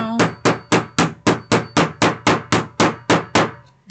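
Twelve sharp, evenly spaced mallet or hammer blows tapping a placemat notebook piece into place, loud and close, each strike ringing briefly before the next, with no talk.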